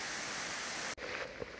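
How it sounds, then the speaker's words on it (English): Rain falling in a forest, a dense steady hiss of downpour that cuts abruptly and resumes slightly softer, with no talk. "The rain got stronger and stronger and stronger."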